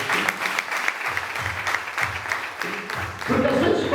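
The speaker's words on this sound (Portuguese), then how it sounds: "Uma salva de palmas para Jesus." A church congregation applauds for Jesus, steady mid-loud clapping throughout with voices rising underneath near the end.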